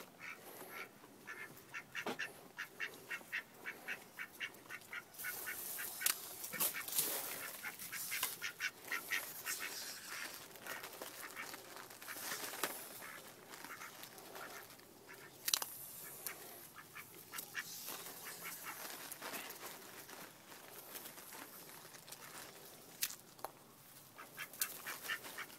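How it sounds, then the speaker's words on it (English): A flock of ducks being fed at dinnertime, quacking constantly in rapid, overlapping bursts with occasional hisses, close and lively throughout with no talking. "let the ducks have it. Quit hissing at them."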